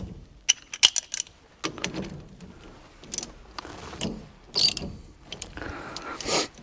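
A hand ratchet clicks in short, uneven bursts while tightening 5/16 by 24 threaded fasteners during a steering wheel installation, with sharp metallic ticks and a few light clinks, close and alone.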